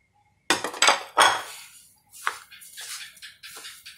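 Chili and lemongrass salt stirred in a bowl, a spoon scraping and clinking against the dish in several sharp bursts followed by lighter, quicker taps, close and clear with no talking.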